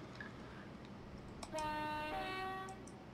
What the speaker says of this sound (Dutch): Leuk is een toeter.